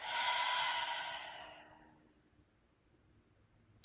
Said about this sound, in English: Breath out through the mouth.